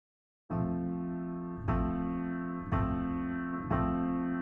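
Piano run through AudioMatic Retro Transformer hi-fi distortion in Reason: four sustained chords struck about a second apart after a brief silence, each ringing on at a soft, even level with no voices.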